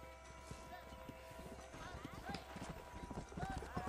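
Horse hooves galloping in Red Dead Redemption, a rapid run of clip-clop beats under game music and voices, growing louder toward the end.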